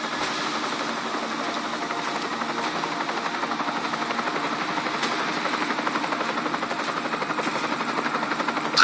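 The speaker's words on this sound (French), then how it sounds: "Hélico ennemi en vue." An enemy helicopter in the Deus Ex video game thrums steadily with a continuous rotor chop and engine drone, loud and sustained, with no voices.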